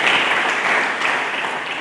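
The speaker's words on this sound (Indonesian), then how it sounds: "Mari kita berikan tepuk tangan bagi Yesus Kristus itu." A church congregation claps together during a sermon, a dense, steady wash of applause that holds at an even level for about two seconds with no one speaking.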